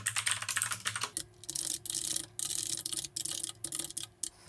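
Code is typed on a computer keyboard in quick, irregular bursts of close key clicks, broken by short pauses, with no voices over the typing.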